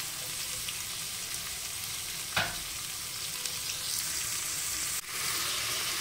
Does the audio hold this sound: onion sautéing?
yes